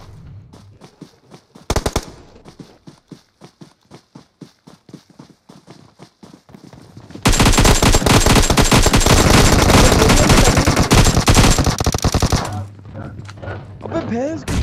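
Gunfire in the PUBG video game: sparse single shots and taps give way to a long, loud, dense burst of rapid automatic fire lasting several seconds, then trailing off into quieter game sounds.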